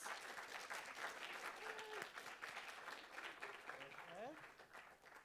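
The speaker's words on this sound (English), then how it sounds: "Let's give her a round of applause." An audience at a university student government meeting applauds steadily, a dense, continuous patter of clapping from a room full of people, with occasional voices and a few cheers mixed in.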